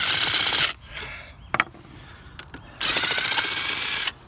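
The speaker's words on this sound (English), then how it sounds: "I'm going to take the bolts out, set them aside." Bolts are loosened from a Flint and Walling CJ101 series pump with a socket, giving two long bursts of rapid ratcheting whir separated by a quieter stretch of a few metallic clicks and knocks, close and loud.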